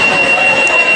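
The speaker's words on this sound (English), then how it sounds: "setting off the alarm. Okay, wrong key." A school alarm sounding in a gym during a girls' varsity basketball game, a steady high electronic tone held throughout over a dense crowd murmur and court noise.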